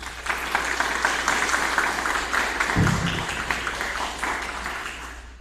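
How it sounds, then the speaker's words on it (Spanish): Audience applause after a conference speaker is introduced, steady and moderately loud throughout, with a brief low thump partway through. "Le brindamos nuestros mejores aplausos."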